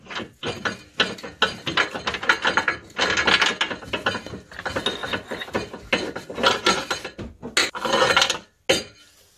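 A ratchet loosens the oil pan bolts on a BMW N54 engine from a 135i or 335i, giving loud, close bursts of rapid clicking with brief pauses between them and a short gap near the end.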